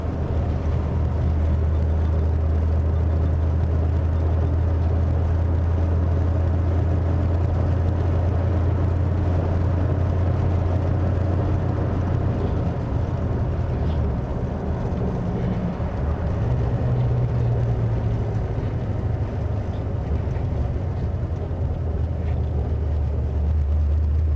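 Steady low engine hum and road rumble from a restored 1946 Mercury car cruising, with a brief pitch shift midway and no talking.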